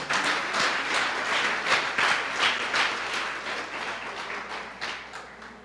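A church congregation at a Sunday service claps in steady, dense applause that stays loud and continuous throughout, with no talking over it.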